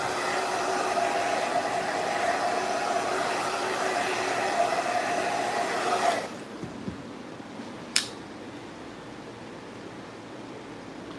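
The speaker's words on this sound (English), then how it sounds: "I'm gonna come in with the clipper open" Electric hair clippers buzz steadily at close range during a haircut fade, then switch off abruptly partway through, leaving quiet room noise and a single sharp click.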